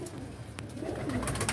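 Pigeons in a loft coo softly at a distance, low murmuring calls under a steady hiss of room noise with a brief sharp click partway through.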